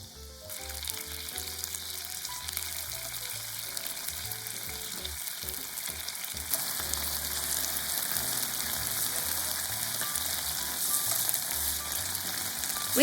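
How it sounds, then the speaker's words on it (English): Beef simmering in boiling sauce in a pot while being stirred, giving a steady bubbling sizzle that runs without a break and grows slightly louder partway through, with no talking. "When the sauce boils, add the beef."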